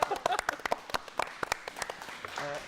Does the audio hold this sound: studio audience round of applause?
yes